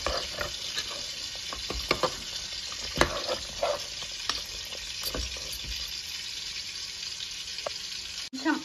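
Goat head curry sizzling in a pan as it is stirred with coriander powder and garam masala, a loud continuous fry with repeated scraping stir strokes close by.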